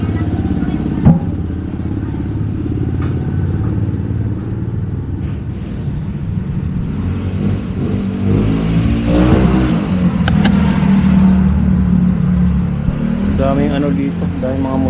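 Many motorcycles and cars pass along a busy street at night, engines rumbling and revving as they go by close, with people talking over the traffic.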